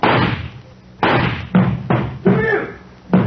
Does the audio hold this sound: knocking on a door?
yes